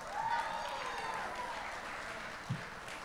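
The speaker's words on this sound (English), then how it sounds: "One more round of applause for the best men," Wedding guests at a reception applauding the best men after their speech, a steady, moderately distant wash of clapping from a crowd with faint voices underneath.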